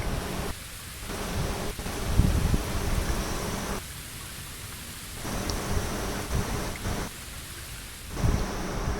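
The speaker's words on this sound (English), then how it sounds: "Looks like the rain has stopped." Rain and thunder in the Bleach Rebirth of Souls video game: steady hissing rainfall with rolling thunder rumbles swelling and fading in several waves, no talking.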